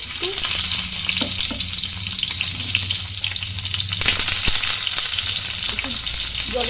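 Chicken sausages sizzle in hot oil in a pan, a steady close frying hiss with occasional stirring clicks and scrapes, no talk.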